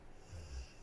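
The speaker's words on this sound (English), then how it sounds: "hopefully, that's my dog you can hear snoring." A dog snores nearby in one short, low, rumbling breath under a quiet room during a slow hand-stitching session.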